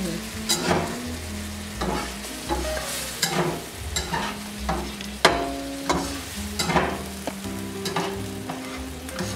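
Vegan vodka-style pasta sauce from a jar is stirred in a hot pan, with a constant bubbling sizzle broken by repeated loud scrapes and clacks of the utensil at an uneven, busy rhythm.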